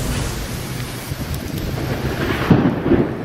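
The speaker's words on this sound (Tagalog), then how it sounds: "Sinabayan ng kulog at kidlat ang malakas na ulan ngayong hapon." Heavy monsoon rain pours down in a dense, steady roar during an afternoon storm in Metro Manila, with low rumbling thunder rolling underneath and swelling near the end, loud and close.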